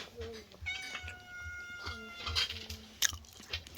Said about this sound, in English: That cat is so pretty.